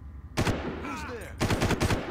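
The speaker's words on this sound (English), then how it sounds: "I just shot him in the head and it didn't kill him" Rapid automatic gunfire in Far Cry Classic, two short bursts of loud, close shots separated by a pause, with brief voiced sounds between the bursts.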